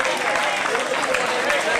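At a colonial-themed wiffle ball tournament, a crowd cheers and applauds steadily throughout, with a dense, continuous roar of clapping and voices filling the space at close range.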